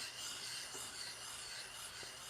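A wood chisel being sharpened by hand for cutting a beam, a steady continuous scraping rasp without pause, close and alone.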